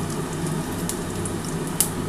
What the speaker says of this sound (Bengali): এবার এই তেলের মধ্যে আমি একটুখানি গোটা জিরে ফোড়ন দিয়ে দিচ্ছি